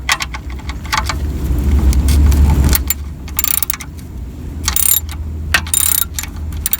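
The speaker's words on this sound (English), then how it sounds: "I'm going to take the plug out if I can" A drain plug is worked loose from the steel oil pan of a Toyota Camry V6, giving close metallic clicks, ratcheting and light clinks over a steady low rumble that drops away partway through.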